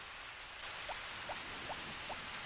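Rain in the video game Harvest Moon: Back to Nature makes a soft, steady hiss, with faint, evenly spaced little blips cutting through the low-level wash.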